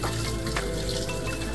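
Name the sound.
rinsing mini split air conditioner with fresh water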